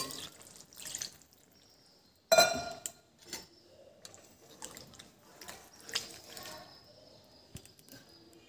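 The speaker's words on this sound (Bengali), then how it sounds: "এবার দিয়ে দিচ্ছি গরম জল।" Hot water is poured into a pan of cooked, oil-releasing chicken curry for chicken darbari, with a sharp clink followed by splashing and scattered dripping and bubbling sounds, fairly quiet and close.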